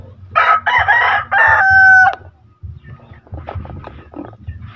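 A rooster crows loudly nearby in one long call, followed by softer clucking and scratchy farmyard noises.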